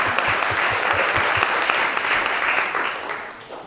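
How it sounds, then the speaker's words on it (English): An audience claps for the competing teams at a presentation event: steady, dense applause that holds at full strength for several seconds, then begins to fade toward the end. "So big applause to the teams who have made it so far."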